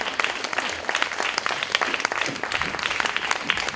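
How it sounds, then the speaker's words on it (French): Audience applause at an evening stage event at the BBox, a steady patter of many hands clapping close and fairly loud throughout, with no voices over it. "Venez à nos côtés, sous vos applaudissements."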